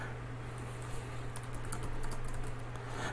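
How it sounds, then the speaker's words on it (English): Keyboard keys clatter in steady quick taps at close range, light and continuous over a low electrical hum, with no voices. "I'm typing something"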